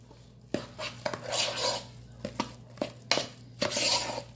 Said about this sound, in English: Okay, I'm going to stir that in.